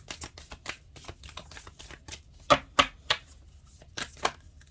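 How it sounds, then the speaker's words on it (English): Oracle cards being shuffled up close, a run of soft rapid flicks with a few sharper slaps. "I find these cards have been, throughout this entire series, very difficult to shuffle"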